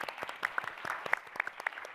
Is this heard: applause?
yes